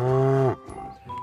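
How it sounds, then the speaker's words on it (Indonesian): A toy cow gives one loud, drawn-out moo lasting about half a second, then cuts off into quiet, faint rustling. "here are the cows"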